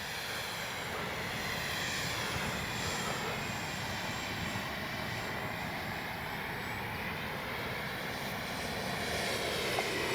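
A Freewing F-22 70mm electric ducted-fan model jet takes off with a loud, unbroken turbine-like roar that holds steady throughout.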